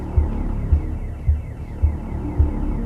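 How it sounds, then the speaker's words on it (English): Alarm going off in The Occupation, a video game, heard as a low throbbing pulse repeating about every half second, steady and fairly loud with no talk over it. "This alarm could have been easily avoided if we'd paid attention to our surroundings."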